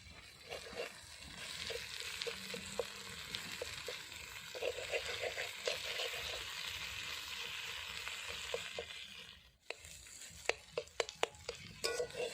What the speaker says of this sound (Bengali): ডিমটা ভাজা ভাজা করে নিয়ে